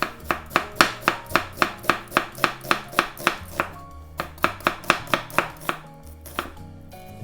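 A knife slices through onions on a cutting board in a steady, even rhythm of about twenty crisp close chops, a brief pause midway, with no talking.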